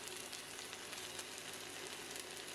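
Prawn kuey teow sizzles in a hot pan with bean sprouts, chili, pickled radish, tofu and egg, giving a steady, close, crackling fry with faint stirring and no talking.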